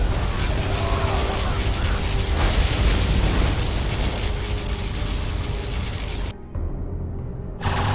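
A particle cannon blast from the Command & Conquer Generals Zero Hour game, a loud sustained roaring burst with rumbling low end lasting several seconds before cutting off abruptly, then resuming briefly.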